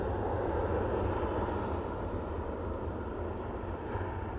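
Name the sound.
Ryanair airliner taxiing to Terminal 3, Manchester Airport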